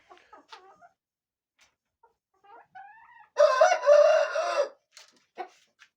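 Indoor chickens in a coop give a short run of clucks, then a loud rooster crow rings out close by, followed by a few more scattered clucks in an otherwise quiet space.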